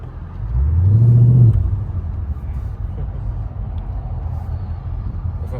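A car engine revs up loudly and close from inside a performance car, with a rising growl that peaks and then settles into a steady rumbling cruise; voices talk over it.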